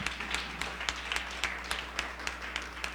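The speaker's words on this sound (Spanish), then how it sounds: "Demos una ofrenda de palmas al Señor" Church congregation clapping as an offering to the Lord, a faint, fairly slow rhythmic clap pattern with evenly spaced beats above a low steady hum.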